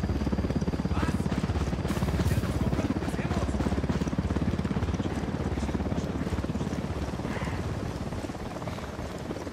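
A helicopter in the video game Ghost Recon Wildlands drones with a steady rotor chop at constant loudness, mixed with dense game noise, while players talk over it.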